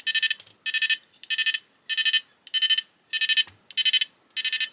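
A homemade electronic cicada device gives a shrill, close buzzing chirp, repeating as eight evenly spaced bursts with short silent gaps between them.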